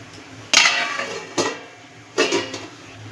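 A lid set onto a cooking pot of chana masala with aloo, three separate metallic clanks and rattles heard up close, the first one loudest.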